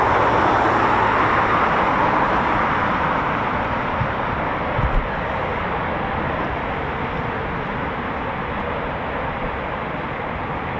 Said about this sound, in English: Two Typhoons taxiing.